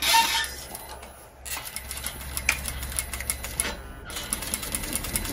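A home sewing machine stitches a fabric nose-and-mouth face mask, its quick rhythmic needle clatter running in bursts with short pauses, close and fairly quiet.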